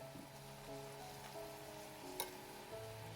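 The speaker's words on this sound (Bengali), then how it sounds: "এভাবে আমি সব লুচিগুলো ভেজে ফেললাম" Doi luchi, a yogurt-enriched puffed flatbread, deep-frying in hot oil: a steady, soft, close sizzle with faint crackles and one brief sharper spatter, no talk.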